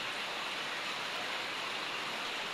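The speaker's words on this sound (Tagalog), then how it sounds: "medyo malakas na rin yung ulan." Heavy rain from a typhoon pours down steadily, a dense, even hiss with no breaks, close and loud throughout, with no voices.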